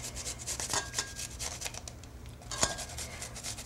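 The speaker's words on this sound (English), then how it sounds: "Garlic which I have, I'm going to grate it right into it." Fresh garlic grated by hand straight into grated baked potatoes for a samosa filling, giving close, repeated raspy rubbing strokes with a sharper scrape near the end and no talking.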